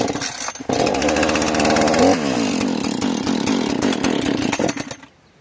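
A Husqvarna chainsaw runs loud after being started, its engine revving and buzzing steadily for several seconds, then it cuts off abruptly near the end.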